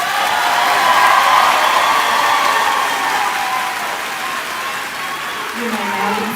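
An audience applauds graduating students at the 2023 Southwest Edgecombe High School graduation, a loud crowd roar with scattered cheers that swells early and then eases off slightly.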